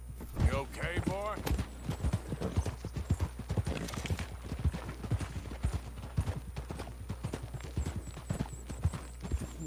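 A horse in Red Dead Redemption 2 trots with steady, rhythmic clip-clop hoofbeats and gives a brief whinny early on, under a voice.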